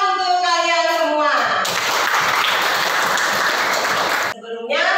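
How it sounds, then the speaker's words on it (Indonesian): A class of schoolchildren claps in a short, dense burst in the middle, with a voice before the clapping and another voice after it. "Beri tepuk tangan untuk kalian semua"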